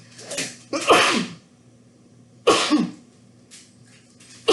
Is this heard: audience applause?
no